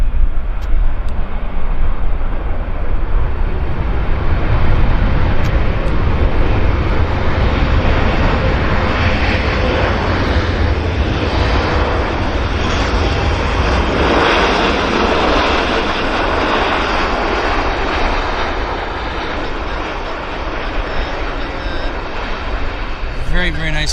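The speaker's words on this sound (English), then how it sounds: "Very, very nice landing." An airliner from Dublin touching down at Vancouver Airport, heard as a loud, sustained broadband engine roar and rush that holds steady across the whole span, with a person talking over it.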